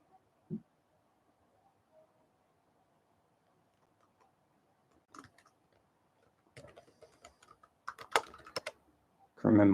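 Keys clatter on a computer keyboard in short, scattered bursts, faint at first and then denser clusters of close taps, in a quiet room with no one talking.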